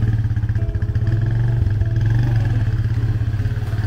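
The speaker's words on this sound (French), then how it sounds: "En plus, on va encore monter sur la moto." Motorcycle being ridden, a loud, close engine drone with a steady pulsing throb throughout, no talking.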